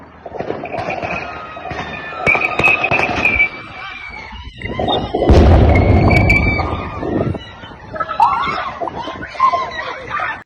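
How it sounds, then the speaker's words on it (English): Gunfire goes off amid screaming, with loud bangs and bursts scattered across a chaotic scene, the heaviest in the middle, mixed with yelling voices. "Now you have all this gunfire going off around you."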